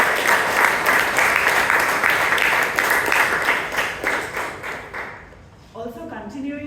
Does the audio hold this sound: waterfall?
no